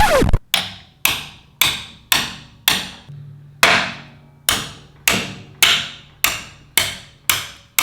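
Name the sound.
hammer striking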